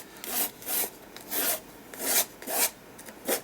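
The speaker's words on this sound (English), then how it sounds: "just by scraping the colour down" Paint is scraped across a mixed-media collage journal page in repeated rasping strokes, about six close rhythmic swipes, each a short rough scratch with brief pauses between, and no voices.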